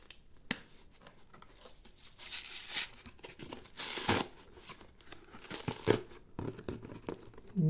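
Packaging around a proof coin is torn and crinkled open, with close, fairly quiet crackling bursts and rustles, a few sharper rips, and no voices.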